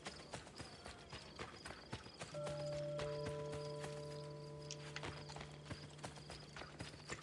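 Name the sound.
horse hooves galloping in Assassin's Creed: Brotherhood video game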